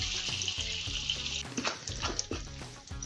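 Tava kebab frying in a pan sizzles with a continuous bright hiss, with occasional soft clinks and scrapes throughout.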